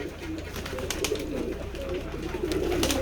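Many pigeons, both local and foreign breeds, coo together on a pigeon farm in a village in Keshabpur, Jessore. Low, overlapping cooing rolls on throughout, close and continuous, with scattered rustles and wing sounds mixed in.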